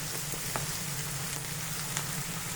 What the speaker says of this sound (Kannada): ಮೆಣಸಿನ್ಕಾಯಿ ಹಾಕ್ಕೊಂಡು ಒಂದು ನಿಮಿಷ ಬಾಡಿಸ್ಕೋಬೇಕು